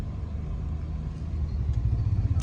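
A car engine rumbles steadily and fairly close while the car crawls through a crowded area near a temple by Veer dam, a low, continuous drone with no voices.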